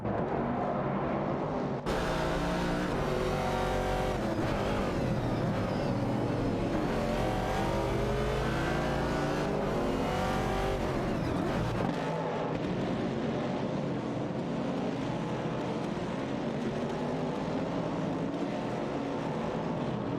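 Race cars, among them a Ford Mustang Boss, roar through a racing video game in a loud, continuous layered engine drone with shifting revs and a brief dip near the start.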